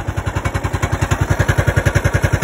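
A 9-horsepower Kawasaki single-cylinder engine on a 1990 John Deere RX75 riding mower idles on a cold start at 32°F, with a steady, fast, even chug of close, loud pulses. It has a muffler exhaust leak.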